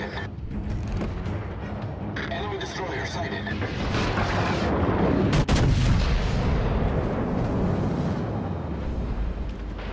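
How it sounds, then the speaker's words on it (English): Naval artillery fire in World of Warships: Legends, heavy rumbling booms rolling continuously with one sharp crack midway, loud and dense, with a game voice line heard partway through. "All stations, concentrate fire on the target."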